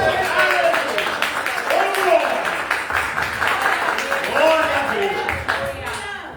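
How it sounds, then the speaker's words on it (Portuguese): A church congregation claps and applauds together, a steady dense patter lasting several seconds while a voice speaks and exclaims over it. "Dê uma salva de palmas para Jesus,"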